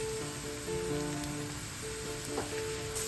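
Curry powder frying in a pan gives a steady, soft sizzle throughout, close and continuous with faint tonal hum behind and no voices.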